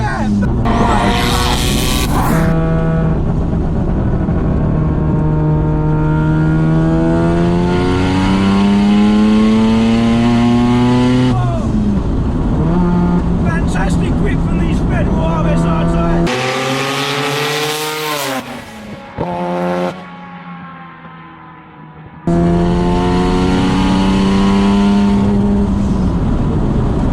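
A 500 wheel-horsepower Mazda RX-7 FD rotary accelerating hard, its loud engine note climbing steadily in pitch, dropping sharply on a gear change and climbing again, with a brief near-quiet lull before the next pull. An excited voice briefly calls out over it.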